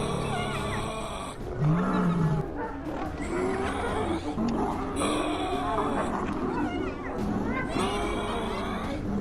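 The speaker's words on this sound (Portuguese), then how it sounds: "O velho leão rugiu, seu grito ecoando na noite como o estalo de um chicote." An old lion roars in the night, a deep rumbling growl rising in strength, set among snarls and other wild-animal cries, with a voice narrating throughout.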